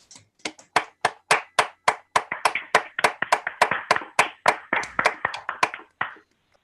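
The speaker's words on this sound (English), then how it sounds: "join me now in a moment of well-deserved applause for these outstanding" Close, crisp hand claps ring out in a brisk, fairly regular run of about two dozen, applause at an awards celebration for science honorees that thins and stops near the end.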